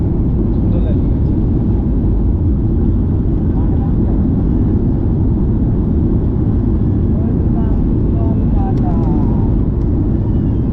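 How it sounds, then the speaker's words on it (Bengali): An airplane on an Ahmedabad to Kolkata flight rolls along the runway after landing, producing a loud, continuous low roar and rumble that does not let up. "এই ল্যান্ডিং হয়ে গেছে পুরো পারফেক্ট ল্যান্ডিং"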